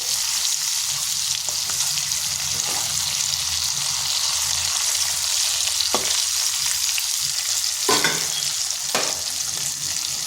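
Green beans frying in a pan give a loud, constant close sizzle, broken by a few sharp clicks and scrapes of stirring, with no talk.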